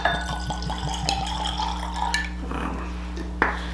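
Bourbon whiskey (Coachgun American Whiskey) poured into a clear Glencairn glass: a short run of close, light liquid trickles and glassy ticks over a steady low hum, with no talking.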